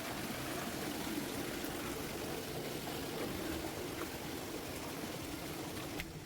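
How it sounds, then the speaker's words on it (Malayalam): A river near Valparai rushing steadily and evenly, a soft continuous wash of flowing water with no voices. "ഇതിന് ഫ്രണ്ടിലോട്ട് കുറച്ച് ഇറങ്ങിയിട്ട് നല്ലൊരു പുഴയുണ്ട്"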